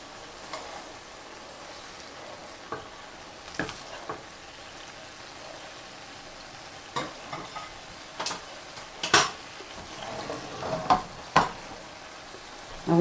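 A double bacon cheeseburger patty frying in a pan, a steady low sizzle with scattered pops and crackles rising and falling over the whole stretch, no talk.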